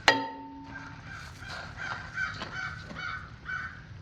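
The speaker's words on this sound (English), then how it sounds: "The crow." A crow caws several times outdoors at moderate distance, harsh calls repeating irregularly over a low ambient background.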